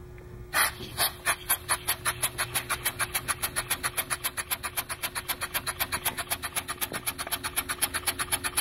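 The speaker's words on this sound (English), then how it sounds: "Pretty smooth running engine" A Brandenburger 8 inside-out model engine starts with a sharp pop and then runs, a close, steady, rapid train of evenly spaced exhaust beats that gradually quickens, with a faint mechanical whine underneath.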